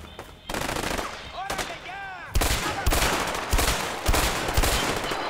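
Bursts of gunfire from the video game A Way Out, rapid machine-gun volleys and single shots crackling in clusters, loud and close, with a brief whooshing sweep between bursts.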